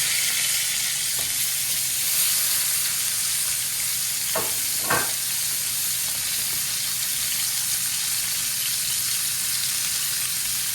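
Pork chops sizzle in a frying pan with a loud, steady hiss that runs the whole time, broken briefly by a couple of faint clanks partway through.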